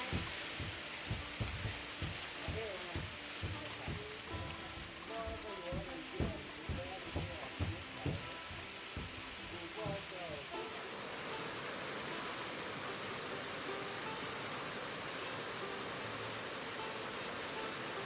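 Steady rain pours down during a first day of rice transplanting in rural Laos, a dense hiss filling the whole stretch, with rhythmic thumping beats and voices over the first half before the rain continues alone.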